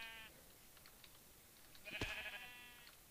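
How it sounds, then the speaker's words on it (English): A single short sheep bleat in a Minecraft-style Ultra Hardcore game, faint and quiet, heard once near the middle over soft background noise. "Hello, sheep."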